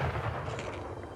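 Gunfire from soldiers in the Age of Empires III strategy game: a dense, continuous crackle of overlapping musket shots with low rumble, steady and fairly loud across the whole moment.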